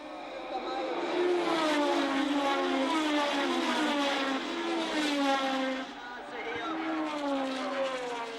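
A pack of 1970 Formula One race cars roars away from the start, high-pitched engines rising and falling in overlapping waves as they pass, heard over a commentator's narration.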